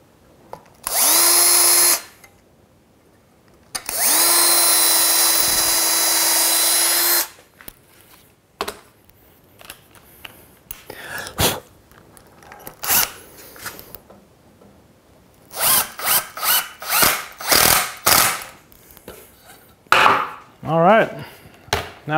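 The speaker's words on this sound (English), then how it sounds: "I'm going to pre-drill this one too." A power drill pre-drills holes in a wooden sawhorse, with two sustained whirring runs followed by short bursts and scattered knocks of wood handling, close up and loud.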